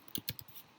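Quick taps on a computer keyboard, three or four sharp clicks in a brief burst, close and fairly quiet with no voice over them.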